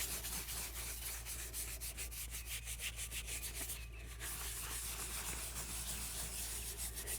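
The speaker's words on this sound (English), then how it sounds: "all we use is just a regular scrub brush, bathtub scrub brush" A bathtub scrub brush scrubs a wet veteran grave marker in a cemetery, giving steady, close, rhythmic bristly rubbing strokes that run without pause, with no talking.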